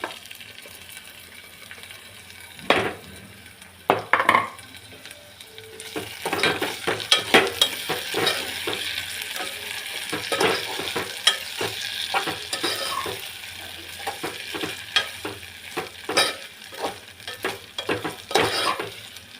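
Prawn pieces sizzle in a pan for prawn curry, a continuous close hiss broken by repeated sharp scraping and clattering stirs that grow busier partway through.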